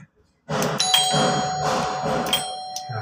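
An electric doorbell chimes a repeating melodic tune, clear and close, with a couple of bright ding notes ringing over a sustained tone.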